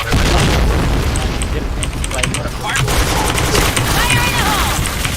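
Grenade blasts and gunfire in the shooter game Point Blank, loud booms mixed with rapid shots and clattering effects throughout, with voices and game announcer lines over the continuous action.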